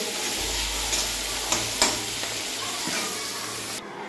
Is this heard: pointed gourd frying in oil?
yes